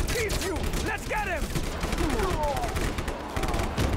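Gunfire in Just Cause 3 crackles in rapid bursts amid chaotic combat, with sweeping whistling tones and distant booms layered underneath, dense and continuous throughout.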